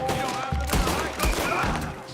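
Gunfire from the Red Dead Redemption 2 video game crackles in a dense, rumbling volley, several heavy shots blending under a busy mix of game sound.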